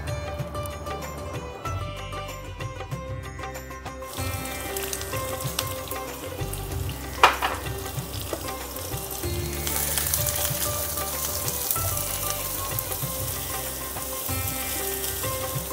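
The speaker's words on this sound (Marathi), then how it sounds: "आता आपण घालूया कांदा." Onion frying in a pan for a Maharashtrian methi masala, a loud continuous sizzle and crackle with repeated scraping stirs of a spoon against the pan, one sharp clink midway, no talk.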